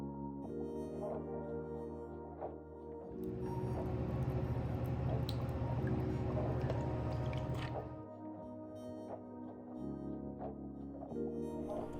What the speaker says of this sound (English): Top with Q Club soda and stir with the metal straw